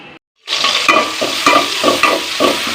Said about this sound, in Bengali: পুঁশাকটা ভেজে নিচ্ছি